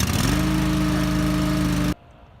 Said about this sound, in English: What I do, I pull this up and I turn this ignition switch.